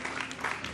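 Studio audience applauding on a Ramadan iftar television broadcast, a brief burst of steady clapping at moderate volume with no clear voices over it.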